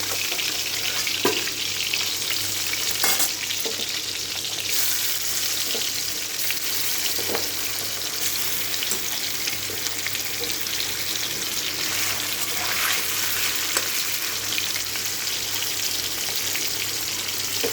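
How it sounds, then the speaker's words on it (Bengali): Fish, heads included, lightly frying in hot oil in a pan, with a steady close sizzle throughout and a few scattered clinks and stirring touches, with no talk. "মাছগুলো ভাজা হোক"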